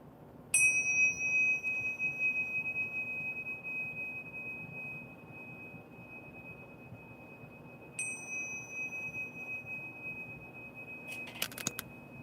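A phone's notification pings pop up: a bright ding at the start and another around eight seconds in, each ringing out briefly over a quiet room with faint background hum.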